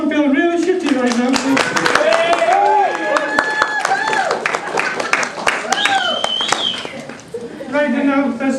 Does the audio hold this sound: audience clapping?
yes